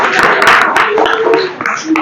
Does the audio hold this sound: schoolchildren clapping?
yes